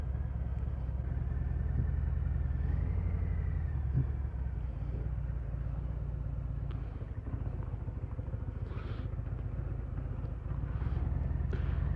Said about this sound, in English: You'll always get a little bit of rumble out of a Milwaukee 8.